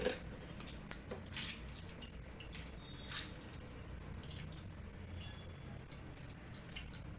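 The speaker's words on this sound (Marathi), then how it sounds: "आपण हाताने यातलं पूर्ण पाणी काढून घ्यायचं आहे" Soft, scattered drips and small splashes of water falling as soaked soy chunks are squeezed by hand, fairly quiet and close, with no talking.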